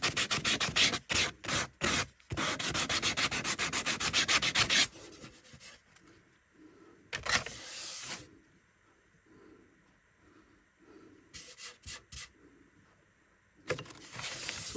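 Hand sanding takes the sharp edges off a wooden seven-string lyre, giving steady rapid rasping strokes up close, then quieter handling with short bursts of scraping.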